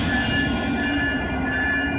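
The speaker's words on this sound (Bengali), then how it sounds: "সেই ট্রেনটি এখন কমলাপুর রেলওয়ে স্টেশনের 14 নম্বর প্ল্যাটফর্ম থেকে ডিপার্চার নিয়ে নিচ্ছে" The Modhumoti Express passenger train, hauled by locomotive 661, rumbles steadily nearby as it departs Kamlapur Railway Station, with a low rolling drone and faint high squeals from the wheels, continuous with no voices.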